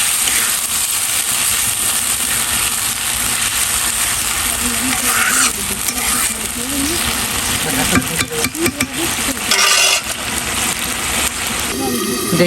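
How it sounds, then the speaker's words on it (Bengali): Potatoes frying in a pan alongside spiced meat, a steady broadband sizzle running throughout with some stirring and scraping clatter in the middle, close and fairly loud. "এবার আমি আলুটা একটু ভেজে নিচ্ছি, হালকা ভেজে নেবো।"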